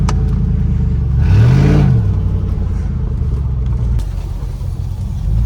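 A Ford Crown Victoria's engine revs hard during a derby-style race, surging to a loud rising-and-falling roar over a constant close rumble, then settling back to a steady drone.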